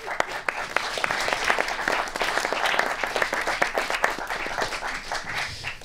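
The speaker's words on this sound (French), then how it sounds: "je vous prie de les applaudir." A cinema audience at a documentary premiere applauds the director and producer as they come forward, a thick stretch of clapping that swells, then thins into more separate claps toward the end.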